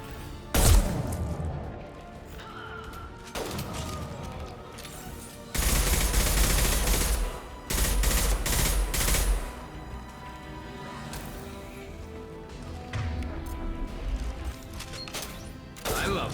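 Rifle gunfire in the game Mass Effect 2, loud bursts of rapid shots with crashing impacts, coming in several clusters separated by short pauses over a steady game backdrop, with a voice briefly heard.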